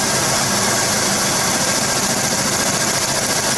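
A GM Buick 3800 engine idles during a misfire test, a loud, steady, buzzing mechanical drone with rapid pulsing vibration, heard close up with no talking.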